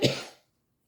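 A single short cough from a person crafting a sketch card, near and abrupt, fading quickly into silence.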